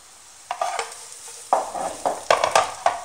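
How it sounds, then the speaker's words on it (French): Leeks frying in olive oil in a pan, a crisp sizzle broken by several distinct stirring scrapes and bursts at irregular intervals, close and clear with no talking. "Je mets les poireaux dans la première poêle."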